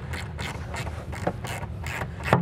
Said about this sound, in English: I just have an 11 millimeter deep socket and a 1/4 inch ratchet.